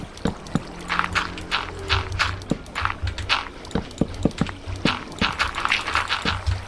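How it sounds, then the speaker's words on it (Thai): Water is poured out in Minecraft Java 1.16.5 while building an automatic melon farm, with short splashy liquid sounds mixed among repeated sharp block-breaking taps and footsteps, no talking. "เทน้ำออกก่อน"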